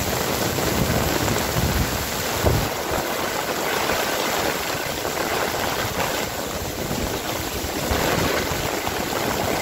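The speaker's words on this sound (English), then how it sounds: "This my last time walking from this job in the rain." Heavy rainstorm pouring down around someone walking home from work, a steady dense broadband wash of rain close by with continuous roar and no pauses.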